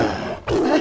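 A cartoon tiger lets out a loud, close roar in two surges split by a brief dip, deep and growling with no talk over it.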